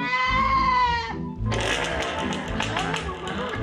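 A goat gives one wavering bleat, followed by loud rustling and clattering nearby.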